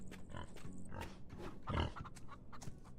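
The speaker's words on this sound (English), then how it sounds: "Oh, snorty pigs." Pigs snort and grunt in the farming video game Farm Together, several short rough snorts scattered over steady game background sound, one louder burst near the middle.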